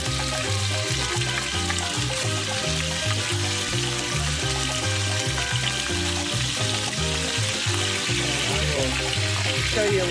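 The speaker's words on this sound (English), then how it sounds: "And I'm going to start searing these off." Beef chunks sear in avocado oil for caldo de res, a dense, loud, unbroken sizzle over a rhythmic musical backing.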